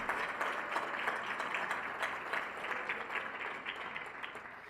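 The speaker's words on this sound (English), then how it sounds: "let's have a big round of applause for Duke." An audience at an athletics hall of fame dinner gives a round of applause, a steady, fairly soft patter of many hands clapping that slowly tapers toward the end.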